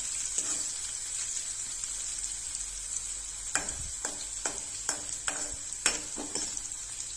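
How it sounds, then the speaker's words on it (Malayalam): Rasam being stirred in a pan on the stove, a steady sizzle with a string of sharp spoon scrapes and taps against the pan in the second half. "നന്നായിട്ട് നമുക്കൊന്ന് ഇളക്കി കൊടുക്കാം"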